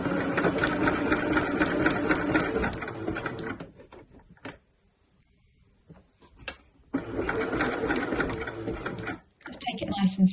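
Sewing machine running a 2.5 by 2.5 zigzag stitch down the middle of a ribbon on a sweatshirt shoulder seam, buzzing steadily in two close bursts separated by a pause.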